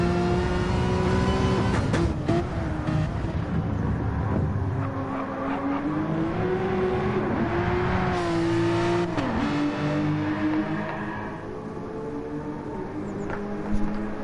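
Porsche race car on the Le Mans circuit, its engine loud and close with a sustained rising and falling whine through gear changes, tire squeal mixed in, and no talk.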